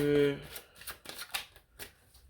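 Tarot cards are shuffled and one is drawn, with quick riffling and soft flicks after a brief voice at the start.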